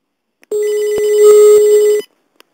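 An incoming call rings on a jailbroken iPod touch: a steady electronic ring tone holds for about a second and a half, loud and close, with no talk over it.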